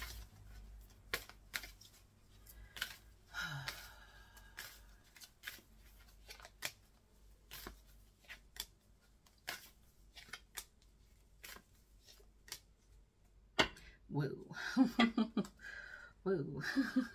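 Oracle cards being shuffled and drawn in a quiet room, heard as sharp, brief riffling clicks and snaps spread irregularly across the stretch, close and soft, with a voice speaking near the end.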